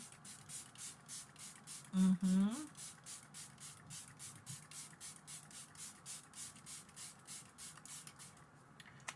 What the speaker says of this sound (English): So I'm going to spray my face.